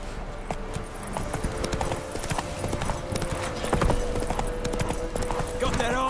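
A horse gallops in The Witcher 3: Wild Hunt, its hooves beating a quick, steady clip-clop over a rumbling ambient bed, with a low hum of game sound underneath.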